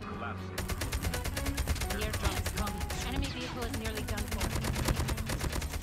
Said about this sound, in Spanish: Me estaban disparando de otro lado